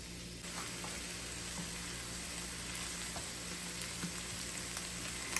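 Garlic sizzling as it fries in a pan for chicken lettuce wraps, a steady close crackling hiss with occasional small pops and a brief stir-like clink, no voices.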